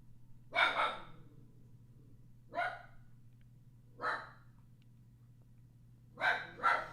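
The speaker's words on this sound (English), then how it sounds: "Fucking dog." A dog gives four or five short, breathy barks, spaced a second or two apart, heard indoors over a steady low electrical hum.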